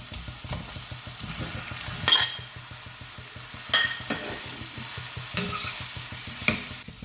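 Cooked jackfruit tossed into a pan with softened chilies, fried and stirred: constant sizzling, broken by sharp scrapes and clinks of the spoon against the pan every second or so.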